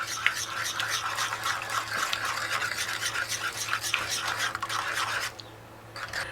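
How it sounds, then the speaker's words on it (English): Spoon stirring milk into a homemade banana pudding mixture in a bowl, giving a steady scraping and swishing rhythm, close, before it briefly quiets near the end. "We're going to stir to combine that."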